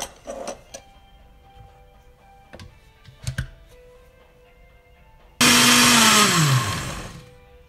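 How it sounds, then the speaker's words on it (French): An electric blender starts with a loud whir, mixing semolina with milk and butter for a pan bread, after a few clicks and taps; the motor runs strong for about two seconds, then winds down, with no talk. "Et je vais mixer la semoule avec du lait."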